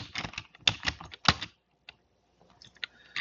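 Keys clatter on a computer keyboard as a Linux permissions command is typed in Ubuntu, a quick burst of close clicks, a pause, then a few more scattered taps.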